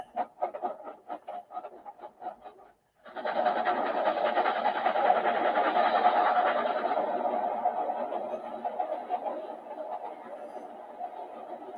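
Model railroad local freight train running past, a steady rolling rumble that rises and holds, then slowly fades, following a stretch of faint clicking.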